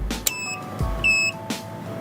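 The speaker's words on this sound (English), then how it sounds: "we got 2 beeps" Two short electronic beeps from a nearby device powering up, a brief pause between them, with a faint low hum underneath.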